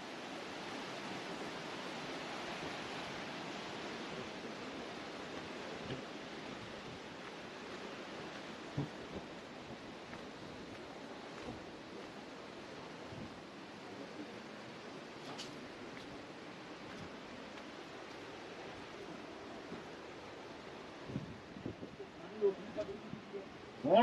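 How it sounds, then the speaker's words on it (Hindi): Mountain water flows down in Baboon Valley at a spot where jeeps are washed, giving a faint, steady broadband rush with occasional small splashes and knocks. "ये पानी ऊपर पहाड़ों से आ रहा है।"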